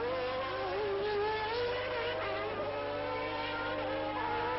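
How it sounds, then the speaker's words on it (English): Formula One car at speed during 1990 British Grand Prix practice at Silverstone, a sustained high-revving engine whine rising and shifting in pitch, steady and fairly loud throughout. "And really flying now, Ayrton Senna."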